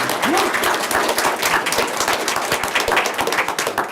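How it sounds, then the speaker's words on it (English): Audience applause fills a school board special meeting, a dense, steady burst of many hands clapping close by at a constant loudness throughout, with a few sharper individual claps standing out. "It's okay to clap."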